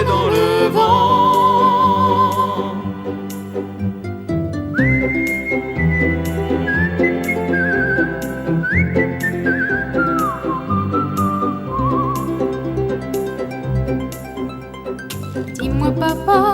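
Melodic whistling carries the tune of a French song over a full band backing, with gliding whistled phrases rising and falling across the middle section and steady instrumental accompaniment throughout.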